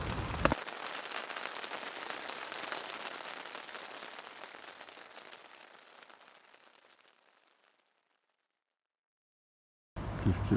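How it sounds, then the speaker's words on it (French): Steady, cold rain patters on a surface on a Pyrenees mountain, close and crackly, gradually fading away into silence before another noise cuts in abruptly. "Il fait froid, il pleut."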